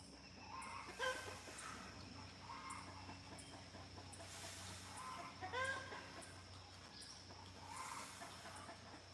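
Farm chickens cluck in short scattered bursts at a moderate distance, faint against a steady hiss of background noise.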